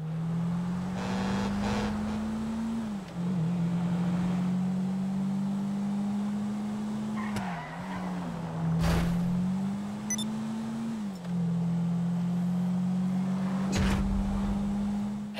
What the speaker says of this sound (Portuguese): Vamos curtir um pouquinho o ronco do motor agora até o final da pista?